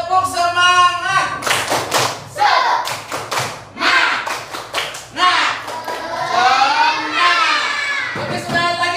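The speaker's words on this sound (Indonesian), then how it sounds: "Coba kita supaya lebih semangat, tepuk semangat." A classroom of students performs the tepuk semangat, loud rhythmic group clapping in quick patterned bursts mixed with children shouting and chanting along.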